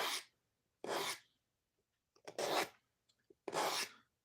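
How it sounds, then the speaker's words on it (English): A knife blade is drawn across a Work Sharp pocket sharpener in four separate close rasping strokes, with quiet pauses between them. "a really simple, easy way to sharpen a knife, I really like this Work Sharp pocket sharpener"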